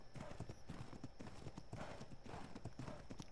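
Horse hooves clip-clopping in the video game ARK, a fast, steady trotting rhythm of light thuds over game ambience, faint and unbroken.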